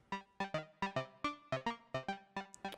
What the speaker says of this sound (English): a sound like this works really, really well with a bit of reverb